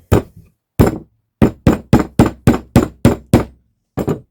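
A claw hammer drives a panel pin into wood with about a dozen sharp, loud, close strikes in a quick, mostly even rhythm, a short pause after the first two blows and a final double tap.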